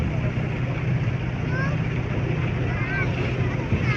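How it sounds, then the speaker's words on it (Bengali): A motor boat cruises on a river near Gazipur's Karkhana Bazar during Eid, its engine a steady low drone with wind rush while people talk on board. "সবাই যে নৌকা নিয়ে ঘুরতেছে, নৌকা ভ্রমণ করতেছে"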